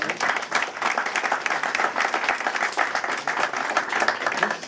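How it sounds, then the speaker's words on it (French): Applause from a small audience at an exhibition opening, fairly close, with many hands clapping in an uneven, steady patter that lasts the whole stretch and no talking over it. "Je crois qu'on peut l'applaudir."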